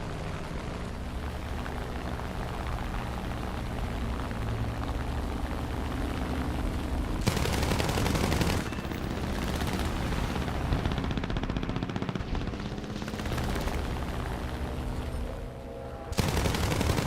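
Rapid aircraft machine gun fire in War Thunder air arcade battles, with dense, sustained bursts over engine drone, loud and close, with a few sharper surges.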